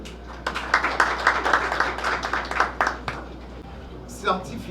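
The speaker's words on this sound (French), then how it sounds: "Encore, je vous demande de l'applaudir," Scattered hand claps from an audience at an award ceremony ring out for roughly three seconds, a modest, uneven burst of applause at moderate distance that dies away, followed by a brief voice speaking.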